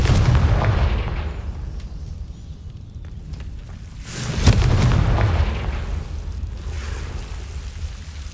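Spell explosions from a Confringo fire spell in Hogwarts Legacy, a loud booming burst around the four-second mark over a rumbling game soundscape, with fainter blasts earlier and a decaying roar afterward.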